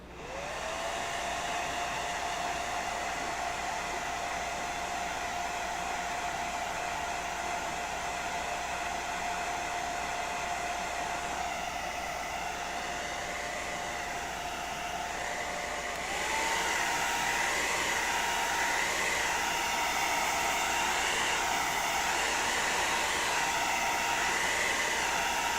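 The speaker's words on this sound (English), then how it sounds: "Hair dryer." A hair dryer blows steadily and loudly with a constant whine, its motor pitch stepping up partway through as it shifts to a higher setting, with no voices.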